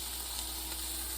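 Pepper steak frying in olive oil in a pan gives a steady, close sizzle with broadband hiss that holds even and unbroken throughout, with no voices over it.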